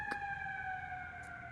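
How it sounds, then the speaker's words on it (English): A siren wails faintly in the distance downtown with a steady, sustained tone, heard alone over low background hum. "I can't be downtown and make a video without hearing a siren or something"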